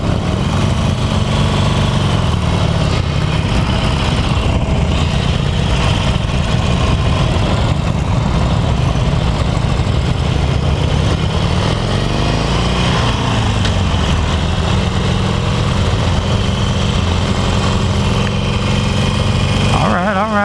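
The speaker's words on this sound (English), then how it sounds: "Why does no one want to, you know, rev their engines up a bit?" A 2018 Harley-Davidson Roadster motorcycle engine idles loudly throughout, its pitch climbing and dropping in a brief rev partway through before settling back.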